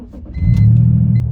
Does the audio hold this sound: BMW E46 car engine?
yes